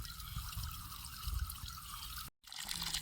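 Water runs steadily through a drip irrigation line watering coconut trees, a continuous hiss and trickle with a brief dropout near the end.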